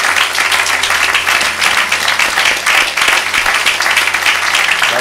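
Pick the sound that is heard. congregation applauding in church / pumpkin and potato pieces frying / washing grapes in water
congregation applauding in church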